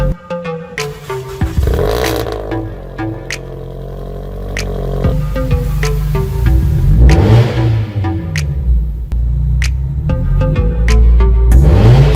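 Supercharged Subaru BRZ / Scion FR-S / Toyota GT86 pulling hard through the gears, engine note rising and falling with each shift, loud and close with steady intake and exhaust roar and some cabin clatter.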